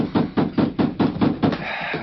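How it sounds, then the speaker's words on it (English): Repeated heavy hammering knocks on a door in an old-time radio drama, about seven loud evenly spaced blows in quick succession, close and forceful, with no voices over them. "Ordinary people don't hammer on a door like that."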